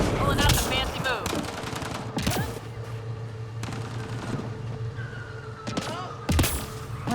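Rapid bursts of gunfire from Mass Effect Andromeda combat, loud and close with sharp repeated shots over a steady low hum and game effects.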